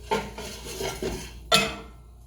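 A utensil scrapes and clinks against a bowl while sour cream is mixed, with a few soft stirring strokes and then one sharper clink near the end. The sound is close and there is no talking.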